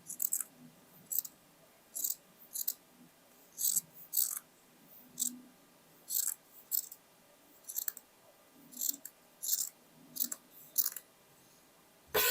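Scissors cut fabric while a dress is being sewn, making repeated crisp snipping bursts about once a second, close and clear in a quiet room.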